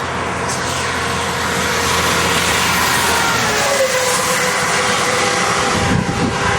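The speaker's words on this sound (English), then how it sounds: "There's nowhere to stop for these cars. They're going too fast." Cars speed past on a highway close by, with a continuous loud roar of engines and tires swelling and fading as each vehicle rushes by.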